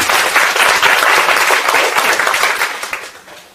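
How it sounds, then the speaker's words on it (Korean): An audience at a Good Internet Club gathering welcomes a speaker with loud, full applause, a dense roar of clapping that holds strong and then fades away toward the end. "여러분 큰 박수로 환영해 주셨으면 감사하겠습니다"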